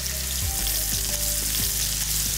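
Lamb shank searing in a hot pan gives off a loud, constant frying sizzle, close and unbroken for the whole moment, with no talking.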